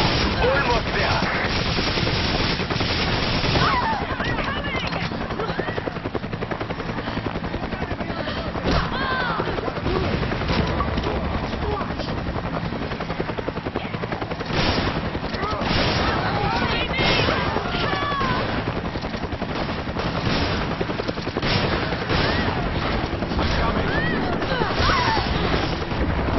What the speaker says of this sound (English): I can hear gunfire.